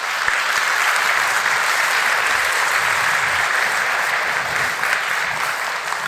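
An audience claps in loud, sustained applause, a dense steady wash of many hands throughout.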